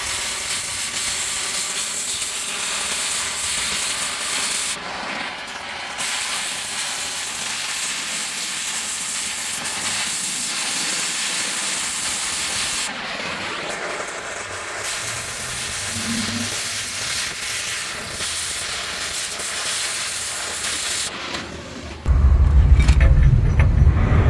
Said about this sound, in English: I'm gonna keep cutting puck bolts because I want this cross member out.